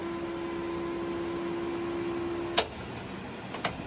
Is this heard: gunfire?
no